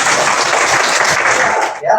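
A classroom group claps in a steady, dense patter of applause that holds for about two seconds before thinning out, with voices mixed faintly in.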